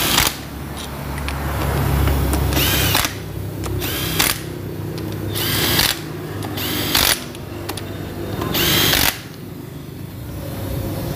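An impact wrench hammers bolts tight while fitting the crankshaft on a Honda Tiger motorcycle, several loud close bursts of rattling blows separated by short pauses.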